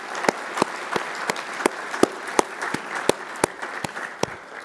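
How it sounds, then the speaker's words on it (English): At a conference keynote, a sparse round of applause is heard as evenly spaced single claps, moderately faint, with no talking over them. "So if I could get a round of applause for them."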